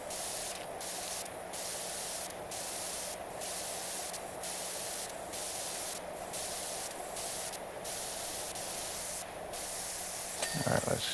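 A pressure washer sprays continuously in the video game PowerWash Simulator 2, a steady close hissing jet broken by short regular pauses as the trigger is released and pressed again, with a low hum underneath.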